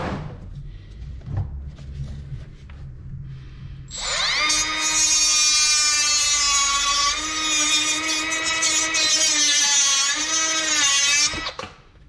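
High-pitched whine of a Dremel rotary tool trimming the front bumper of an RC plane, starting after a few quiet seconds of handling noise and running steadily and loudly for about seven seconds before cutting off.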